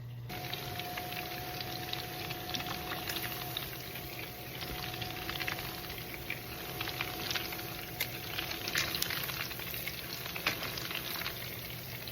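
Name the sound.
meatballs frying in oil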